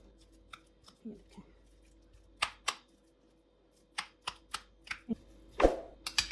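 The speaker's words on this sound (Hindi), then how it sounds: "चम्मच के साथ मैं इनको ज़रा थोड़ा सा मैश कर लूँगी" Boiled potatoes are mashed in a bowl with a spoon in a home kitchen, giving a run of short, sharp scrapes and knocks at irregular intervals, fairly close, with a faint hum behind them.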